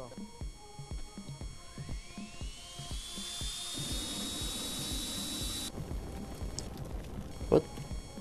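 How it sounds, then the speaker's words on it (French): A small drone in the video game Broke Protocol whines with a high, rising motor pitch that holds steady and then cuts off, over a busy game background, ending with a brief sharp knock. "Oh le drone."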